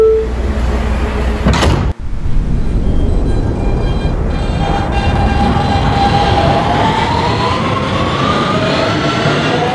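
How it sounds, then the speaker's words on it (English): A Roblox game's R160B Siemens subway train on the BMT Broadway Line: doors slide shut with a brief thump, then the carriage rumbles steadily with a rising electric motor whine as it pulls away. "Stand clear of the closing doors, please."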